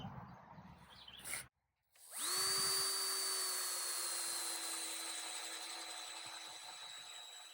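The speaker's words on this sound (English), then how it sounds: "Now we're going to drill some holes." A power drill boring a 3/4-inch hole into a wooden sill plate for a cabin foundation: a brief click, a short pause, then a loud steady whine that holds and slowly eases, close up, with no talking.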